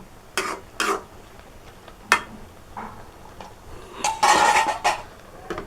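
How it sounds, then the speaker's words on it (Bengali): A pot of pelka, a leafy greens dish, is stirred and then covered with its lid: a few sharp metallic clinks and scrapes, spaced apart, ending in a louder clattering burst of lid on pot. "এখন আমি নেড়ে চেড়ে ঢাকনাটা দিয়ে দেব"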